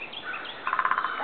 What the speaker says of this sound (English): we hear the woodpecker